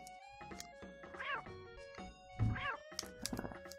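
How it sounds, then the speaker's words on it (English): Simba's roar in the Lion King SNES game sounds like a small cat's meow. It comes through in short cries over game music and sound effects, with a voice talking over it. "Simba sounds like a cat right now with his roar"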